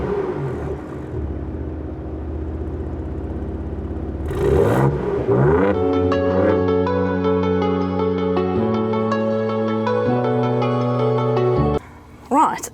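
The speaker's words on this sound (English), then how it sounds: "Now let's rev the engine, otherwise it gets wasted" Ford Ranger Raptor engine idling, then revved hard with a loud rising roar around the fifth second, settling into a steady strong drone with tonal harmonics before a brief dip and another short blip at the end.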